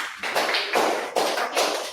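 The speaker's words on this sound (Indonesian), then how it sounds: "Oke, beri tepuk tangan" A group of participants in a teachers' coaching session claps together in several short, loud, rhythmic bursts close by.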